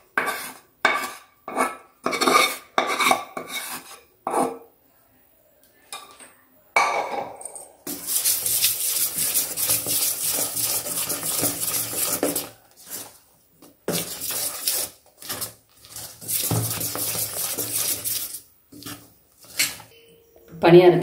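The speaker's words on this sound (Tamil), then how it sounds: "நம்ம மாவு ஊற்றி கலந்து வச்சுருவோம்." Green gram paniyaram batter being stirred in a vessel with cooled jaggery syrup and cardamom, giving irregular clinks and scrapes of a spoon against metal, with bursts of busy stirring broken by short pauses.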